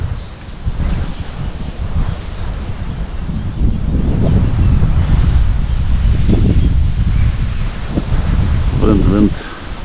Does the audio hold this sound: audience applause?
no